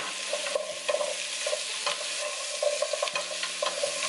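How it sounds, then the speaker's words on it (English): Potatoes fry in a pan, seasoned with chicken powder while a lamb curry is cooked, giving a steady close sizzle broken by repeated scraping and clattering stirs, with no talk. "you just want to fry it off. The whole lot of potatoes"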